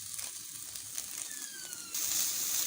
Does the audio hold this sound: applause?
no